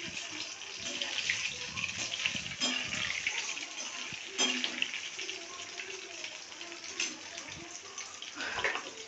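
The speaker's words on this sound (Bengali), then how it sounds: "হ্যালাপিনো চিজ বলস যেগুলো ফ্রোজেন নিয়ে এসেছিলাম, এখন সেগুলো ভেজে দিচ্ছি" Frozen jalapeño cheese balls frying in hot oil, a steady close bubbling hiss with soft pops and crackles running the whole time, no voices.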